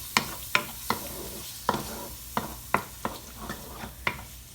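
A halved tomato sizzles in a frying pan with chicken while a utensil stirs and scrapes it, about ten rhythmic scraping strokes over a steady close hiss.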